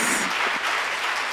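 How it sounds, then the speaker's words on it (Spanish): Brief burst of dense applause from a church congregation at a pastor's life celebration service, steady and fairly loud throughout. "Desen un aplauso"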